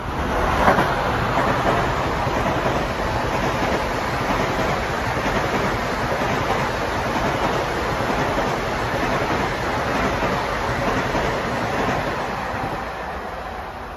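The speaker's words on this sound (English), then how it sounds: "261 on the point, revving up for the camera" LIRR Long Island Rail Road locomotive number 261, a switcher leading a lumber-mill freight train toward Huntington, revs its diesel engine in a loud, steady rumbling drone that holds without pause, close by and alone.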